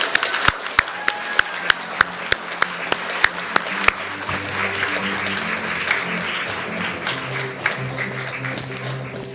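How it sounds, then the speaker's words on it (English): Audience applause at a speech competition, starting as a few sharp distinct claps and settling into a softer, steady patter of clapping from a moderate crowd, with faint murmuring beneath. "Would you please give a nice warm round of applause to Victoria Fong."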